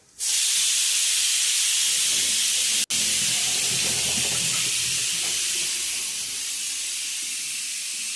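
Masoor dal pakoras deep-frying in hot oil for an iftar meal, a loud, steady hiss close by that runs unbroken except for one sharp cut partway through.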